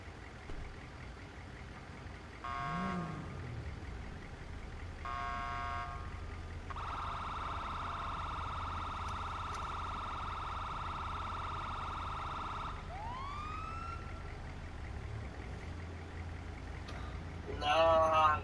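An ambulance siren in the GTA 5 video game wails loudly in a steady held tone with rising sweeps, over continuous background noise and game sounds, with a voice briefly heard.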